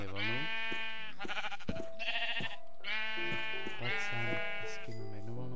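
Sheep in a video game bleating repeatedly, several wavering calls in sequence, loud and close with brief gaps between them.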